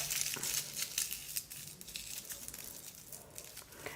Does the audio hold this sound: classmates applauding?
no